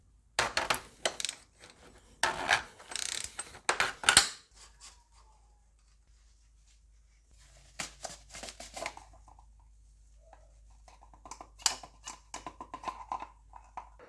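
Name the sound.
universal socket removing oil filter cap, Mercedes W204 C180 CDI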